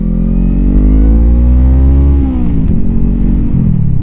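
A 2020 Honda Rebel 500 motorcycle engine revs up loud and close, pitch climbing steadily for about two seconds before dropping back and settling into a lower throb.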